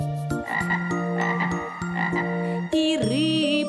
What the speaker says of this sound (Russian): лягушка кричит